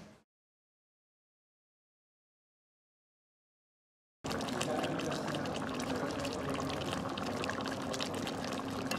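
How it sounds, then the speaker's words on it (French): Veal stock poured into a cooking pot for a beef bourguignon with blackcurrant, a steady close liquid splash and gurgle running without pause after a few seconds of silence. "Donc là j'ajoute 1 litre de fond de veau."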